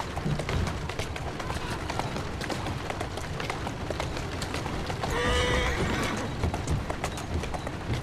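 A horse in Assassin's Creed Syndicate trots with a continuous clip-clop of hooves, then lets out a loud, drawn-out whinny partway through as the hoofbeats carry on.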